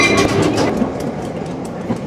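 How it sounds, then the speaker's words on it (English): A Great Smoky Mountains Railroad engine rolls back along the track to couple onto the rear of the train, giving off a steady, close rumble with metallic rattling and clatter. "now they're coming back down to hook up to the back of the train"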